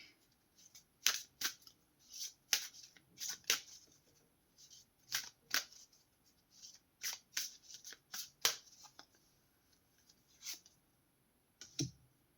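An astrology reading card deck being shuffled, with a series of crisp riffling bursts and card snaps in an uneven rhythm, close and fairly quiet with no talk.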